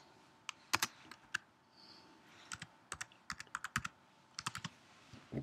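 Quick bursts of keystrokes on a computer keyboard while naming a VPN server setup on a Mac, irregular clusters of close, crisp clicks with short pauses between them.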